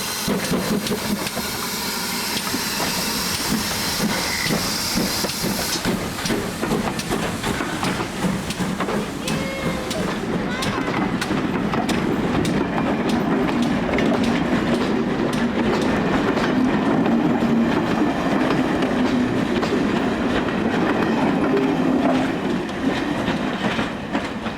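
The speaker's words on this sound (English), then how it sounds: "Easing away from the station stop, 5526 momentarily loses grip and slips before regaining momentum as it departs" Steam locomotive 5526 pulling away from a station stop on the South Devon Railway, a loud, continuous rush of exhaust and rolling wheels close by, its wheels briefly slipping before the chuffing settles and gains momentum.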